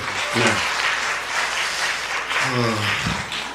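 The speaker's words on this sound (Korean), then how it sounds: "박수 한번 주세요." A church congregation at a Bible study revival meeting breaks into warm applause, with a dense wash of clapping that swells and fades while voices speak over it.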